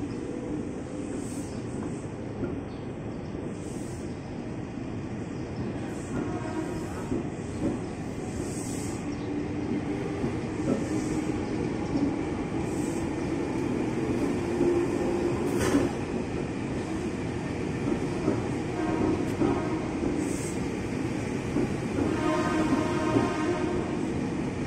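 A KRL commuter train of the Tokyo 8000 series rolls through Manggarai station, a steady rumble of rail noise with wheel and track sounds, occasional squeals and clanks, continuous and moderately near throughout.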